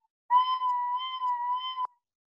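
A recorder blown too hard gives a harsh, squeaky sustained tone of about one and a half seconds, loud and steady with bright overtones, then stops sharply.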